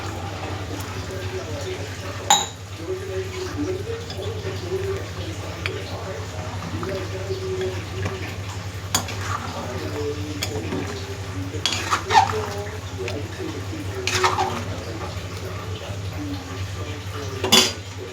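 Taro curry with tamarind juice stirred in a pot with a spoon, scattered metallic clinks and scrapes against the pot over a low steady hum, with a person talking throughout.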